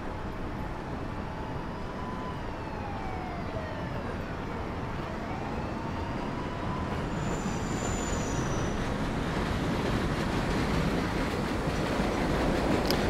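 A subway train on a local service run in the video game World of Subways 4 rumbles steadily, a loud continuous roll with rising and falling tonal whines over the whole stretch, no voices.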